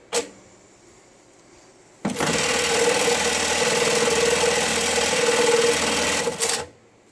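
JACK JK-T1900BLX electronic tacker sewing at 1200 RPM, a loud steady mechanical whir starting abruptly after a click, running about four seconds and stopping sharply.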